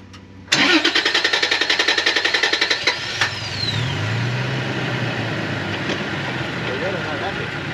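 An off-road vehicle fitted with a new bumper is started with a rapid burst of cranking, then its engine catches and revs as all four wheels spin. The engine settles into a steady, rough roar, and people talk nearby.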